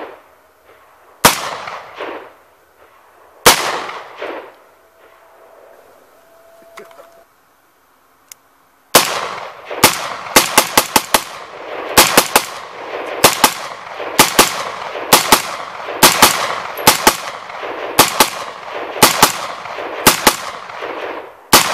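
Loud, sharp gunshots from an AR-15 pistol with a 10.5-inch barrel fired outdoors: two single shots with pauses, then a long run of rapid shots, some in quick pairs.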